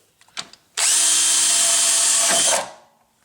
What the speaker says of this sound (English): Let me change the setting to drill.